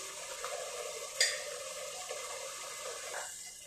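A dish seasoned with pepper, salt and fresh lemon juice is stirred steadily in a pan, giving a soft continuous sizzle and scraping with one sharper clink partway through, close and without talk.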